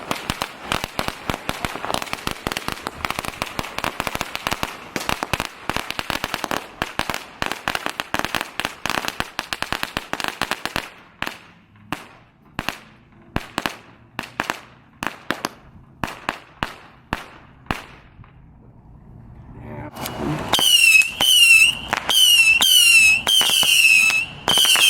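New Year's fireworks and firecrackers set off near a gas station crackle in a dense, rapid string of sharp pops, then scattered single bangs, then whistling, shrieking rockets near the end.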